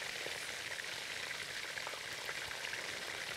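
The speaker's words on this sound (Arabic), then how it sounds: "هنبدا نقلب الفراخ هنا يا جماعه المره زي ما انتم شايفين كده" Chicken with carrots, bell peppers and tomatoes sizzling steadily in a pan while being stirred, a dense continuous hiss with small crackles, fairly close and alone.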